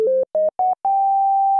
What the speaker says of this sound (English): we have a sine wave output in here